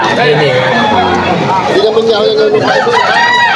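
A six-month-old stag rooster crows loudly and close at a Sunday market in Malolos, Bulacan, amid crowd chatter and people talking throughout.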